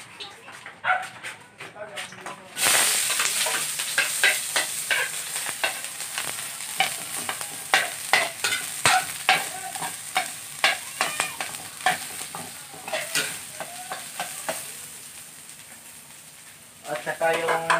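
Garlic and chilli frying in hot cooking oil in a home kitchen, a loud burst of sizzling followed by repeated sharp scraping clicks of stirring in an irregular rhythm, close to the pan.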